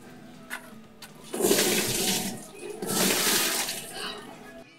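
Water gushes into a Sharp single-tub washing machine in two strong surges of rushing, splashing flow, loud and close, with quieter dripping before them.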